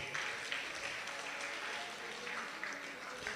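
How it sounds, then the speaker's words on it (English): Faint, distant applause from an event audience greeting a prize winner, a soft continuous patter of clapping hands with some faint voices underneath. "Please a round of applause for him."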